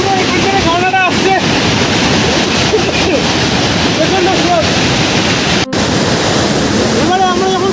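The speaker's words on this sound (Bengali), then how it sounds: "পুরো এখান থেকে ঝর্ণাটা আসছে" Usri waterfall near Giridih roars steadily as water pours down in a forest setting, a loud continuous rush with wind buffeting the microphone and occasional bird chirps over it.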